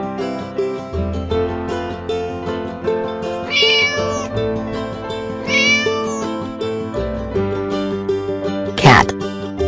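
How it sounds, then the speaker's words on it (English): Two drawn-out cat meows from a children's animal toy ring out over bright, bouncy background music, followed by a short sharp burst. "Cat."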